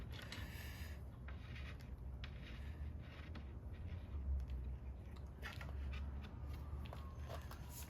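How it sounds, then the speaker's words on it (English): A woodworking clamp is tightened on the case of a reproduction Stickley No. 913 dresser, giving faint creaks and small mechanical clicks and scrapes in a quiet shop, with soft handling knocks around them. "I'm going to put one more clamp in the center."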